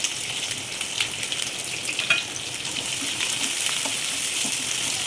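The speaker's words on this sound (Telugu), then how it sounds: "ఆయిల్ వేడెక్కిందండి. ఈ ఆనియన్ పచ్చిమిర్చి వేసేస్తున్నాను" Onions and green chillies hit hot oil and crackle in a steady, dense sizzle that holds close and even throughout, with a few sharper pops and faint stirring scrapes mixed in.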